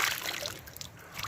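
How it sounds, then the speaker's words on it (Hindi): Hands splash in cold river water in Utror Valley, Swat: a few faint, light splashes and trickles, quiet and close, over soft running water. "हिम्मत करके पानी हाथ डाल रहे हैं यार"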